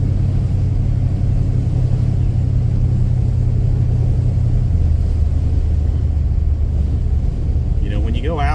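An Avanti car on a short first shakedown drive near home gives a loud, steady low engine rumble that drones throughout and dips slightly in pitch partway through.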